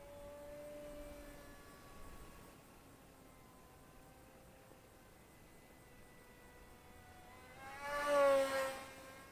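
An Eachine/SonicModell Micro Skyhunter RC plane with a 787mm wingspan flying, a faint steady whine of the small electric motor in the distance, swelling louder as it passes near toward the end.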